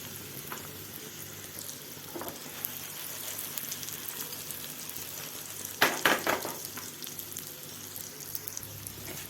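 Tuna croquettes fry in a pan over a medium flame with a steady, moderate sizzle and a brief louder crackling burst midway, as if a piece is turned, with no speech.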